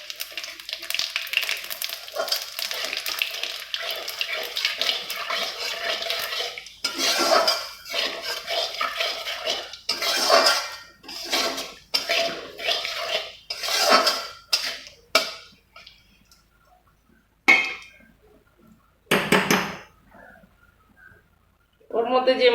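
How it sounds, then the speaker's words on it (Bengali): Cumin, bay leaves and dried chilies crackle and spit in hot oil left from frying fish, bursts of sizzling that come and go while someone talks over them. "ওই তেলের মধ্যে আমি ফোড়ন দিয়ে দেবো জিরে, তেজপাতা আর লঙ্কা"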